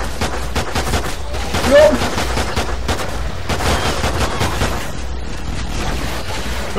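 Rapid bursts of automatic gunfire in Call of Duty Ghosts Extinction, loud and close, with repeated shots crackling across the whole stretch while a man calls out briefly over the shooting.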